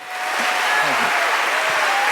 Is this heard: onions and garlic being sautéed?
no